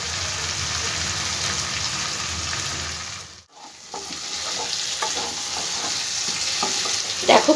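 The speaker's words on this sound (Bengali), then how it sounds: "খুব ভালো করে আমার মশলাটা আলুর সঙ্গেও ভাজা হয়ে গেছে" Potatoes fry with spices in a pan, giving a steady sizzle under repeated scraping stirs, with a brief pause midway before the stirring and crackling resume.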